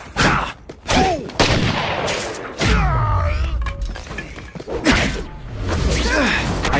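Gunfire and impact thuds in The Amazing Spider-Man 2 on Xbox 360, a rapid burst of shots followed by heavy thumps and whooshing action effects, loud and close, mixed with brief game voice lines.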